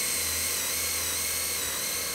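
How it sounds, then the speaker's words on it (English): A power drill bores 3/8-inch holes through wet wood for carriage bolts on a picnic table build, a steady, loud whine running unbroken with no talk. "we're going to drill some 3/8 holes for those carriage bolts"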